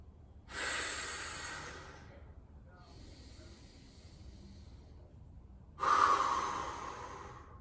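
Heavy breathing while holding an exercise pose, two loud, long breathy exhales a few seconds apart, close to the microphone, with a softer breath between them over a low background hum.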